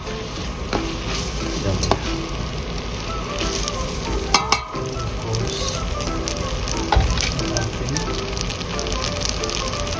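Butter and garlic sizzle loudly in a pan for carbonara, a steady crackling fry with occasional scrapes and clinks of stirring, and one brief spoken word over it.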